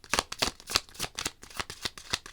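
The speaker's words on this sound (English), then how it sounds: "Also, I realize you guys can't see me shuffling." Tarot cards being shuffled by hand in a quiet room, a steady run of crisp riffling bursts, close and fairly soft, with no talking.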